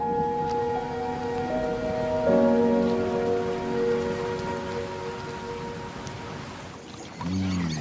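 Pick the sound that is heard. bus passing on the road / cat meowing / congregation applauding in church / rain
rain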